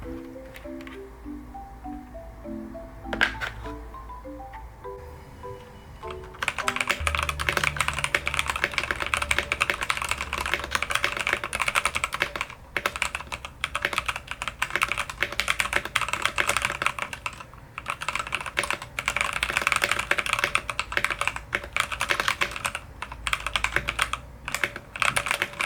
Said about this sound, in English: So that was how the keyboard sounded.